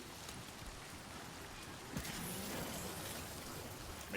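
Steady rain falls in the video game Death Stranding 2, a soft continuous hiss of drops with a brief louder patter partway through and no talking.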